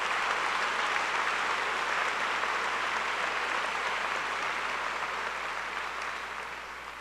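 A high school graduation crowd applauds steadily and loudly, a dense wash of clapping that holds for several seconds and eases slightly toward the end.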